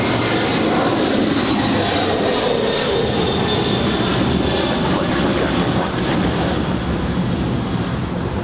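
A heavy Atlas Air cargo jet taking off from LAX bound for Seoul, a loud sustained engine roar that fills the scene without letup, with a slowly shifting pitch as it passes.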